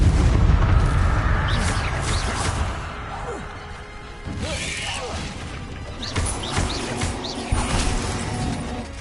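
A Bombarda blasting spell goes off in the wizarding video game Hogwarts Legacy, with booming crashes and clattering debris among whooshing spell effects, while voices speak over the battle sounds.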